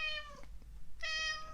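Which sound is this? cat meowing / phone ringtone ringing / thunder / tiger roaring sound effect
cat meowing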